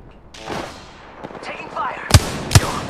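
Sharp explosive blasts and gunfire in a Horizon shooter match, with two strong booms late in the stretch and game sounds behind them.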